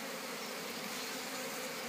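Honey bees buzz at an open hive while frames are lifted out, a steady faint hum holding evenly throughout with no voices over it.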